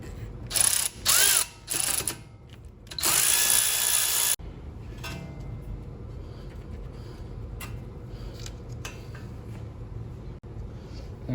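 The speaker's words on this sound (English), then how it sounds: "Now let's go ahead and remove the wheel speed sensor" Power tools and ratchets work on a Ford Mustang's wheel hub to free the wheel speed sensor. Several loud bursts of a drill or impact driver come first, followed by quieter clicking ratchet turns and handling noises.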